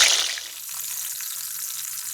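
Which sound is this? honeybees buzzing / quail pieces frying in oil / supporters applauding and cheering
quail pieces frying in oil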